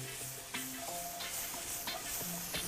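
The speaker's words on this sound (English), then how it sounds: "we're gonna throw that garlic right into there" Garlic sizzles in a hot pan as it is stirred in, a dense continuous frying hiss with occasional scraping strokes of the utensil, close and fairly loud, no talking.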